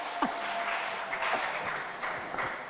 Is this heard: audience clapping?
yes